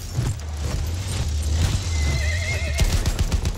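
A horse in a Battlefield 1 battle lets out a loud wavering neigh over clip-clopping hooves and a low rumble of vehicle engines, with no voices.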